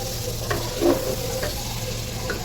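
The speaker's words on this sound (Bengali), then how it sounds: "এই যে দেখেন মাংসটা আমার কষানো হয়ে গিয়েছে" Buffalo meat sizzles steadily as it fries in a pan, with a few soft scrapes from stirring over the constant frying hiss and no talking.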